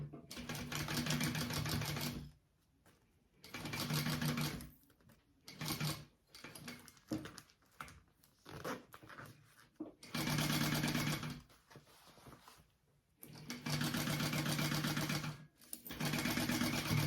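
A sewing machine basts along the top edge of a fabric crossbody bag in several bursts of fast, steady stitching, separated by pauses filled with handling noises and brief stops, up close.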